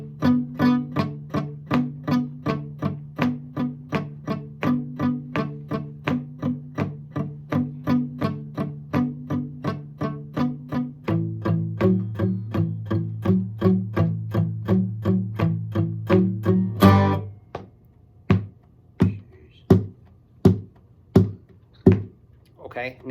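Electric guitar playing the verse riff of a song, steady rhythmic strums with a bass-heavy pattern that shifts pitch midway, then sparser plucked notes after a sharp accent near the end, played alone.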